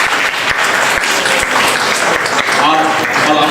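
An audience claps loudly and continuously at a school memorial event for Rabindranath Tagore and Kazi Nazrul Islam, applauding the student script writer with a dense, sustained burst while a voice carries over the clapping.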